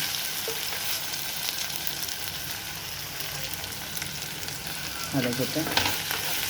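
Curry leaves with grated coconut sautéing in oil in a pan for a thin brinjal gravy, a steady hissing sizzle throughout with a brief louder crackle and stirring scrape near the end.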